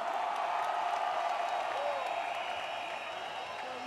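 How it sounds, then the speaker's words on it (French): Large crowd at a youth political rally applauding and cheering, a dense steady patter of clapping mixed with voices that stays loud and continuous, easing slightly toward the end. "Il faut acclamer cette mobilisation."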